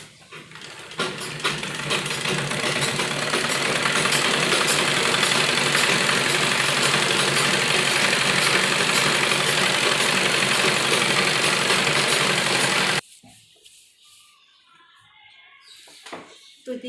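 A sewing machine runs a double line of stitching on a semi-Patiala salwar, whirring loud and steady for about twelve seconds before stopping abruptly into near quiet.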